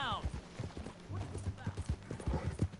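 Horse hooves clip-clop at a steady riding pace in the Red Dead Redemption 2 video game, loud and continuous with game ambience and voices underneath.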